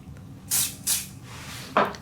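Glue Boost Thin CA accelerator sprayed onto metal in three short hissing bursts, close and fairly quiet, with a soft click between them.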